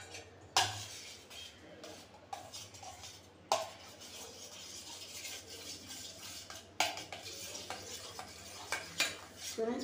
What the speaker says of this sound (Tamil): இப்போ நம்ம இதை மிக்ஸ் பண்ணலாம்.